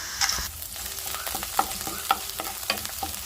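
Onion and split green gram dal sizzle and fry in a pan with oil, with steady frying crackle and a few sharp spatula scrapes and taps as the mix is stirred, close and moderately loud, no talking.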